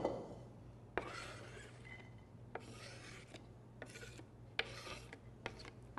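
Corn flour salad ingredients being stirred and tossed together in a bowl, with intermittent scraping and rubbing strokes over a steady low hum, each burst lasting about a second.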